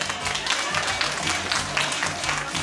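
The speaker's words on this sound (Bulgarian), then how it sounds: "Аплодисменти за Войчо Камбер." Applause for Voycho Kamber at a wedding celebration, a steady wash of crowd clapping with festive background noise throughout.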